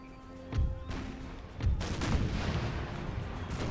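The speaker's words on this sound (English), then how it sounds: "The artillery can continue fire for a bit." Artillery fire in an American Civil War video game: several deep cannon booms, one after another at roughly one-second intervals, each with a rolling thud and rumble trailing off, over faint background tones.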